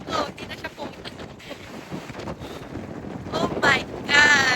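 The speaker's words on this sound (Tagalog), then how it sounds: "Sobrang lakas ng hangin." Strong wind in Bali buffets the microphone in heavy gusts, a rough roaring rumble that swells louder near the end, with faint voices in the background.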